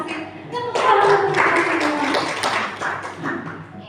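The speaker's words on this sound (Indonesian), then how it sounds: "Tepuk tangan." Group hand clapping in an Indonesian teacher-training session: a dense, steady patter of many hands clapping together, fairly close, lasting a few seconds before tapering off.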